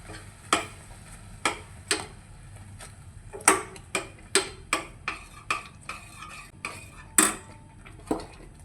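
Hot, strained sugar syrup is stirred into motichoor laddu boondi in a metal pot, the spoon striking the rim in a steady series of sharp, close clinks with scraping between them.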